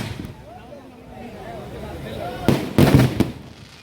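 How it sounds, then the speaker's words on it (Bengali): Fireworks burst at a wedding in a crowded village, with a run of sharp, loud bangs and crackles near the end, after a stretch of quieter outdoor background. "বাপরে বাপরে বাপরে, কত যে বাজি ফুটলো কি বলবো তোমাদের।"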